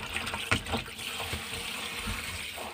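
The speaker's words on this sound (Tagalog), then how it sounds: "Ayan guys, hugasan ko na yung chicken." Tap water runs and splashes in a sink while chicken pieces are washed, a close, moderate gushing with a few sharper splashes over less than three seconds.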